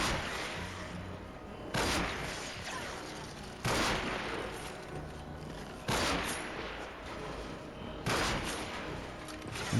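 Sniper rifle shots fire in a video game, four loud, sharp cracks at roughly two-second intervals over a steady background hum, with no talk.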